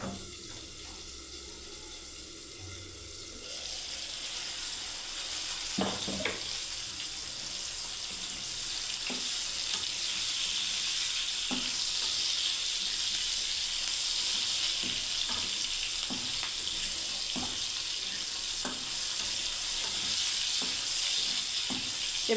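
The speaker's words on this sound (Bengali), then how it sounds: "বেগুনটা ভাজা হয়ে গেল" Eggplant fries in a pan with a continuous close sizzle that swells after a quiet start, broken by scattered taps and stirring clatters.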